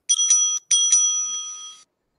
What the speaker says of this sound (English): the bell will be rung twice